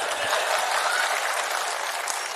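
Steady, dense applause from a large crowd at a public speech event fills the space, continuous and fairly loud throughout without a break.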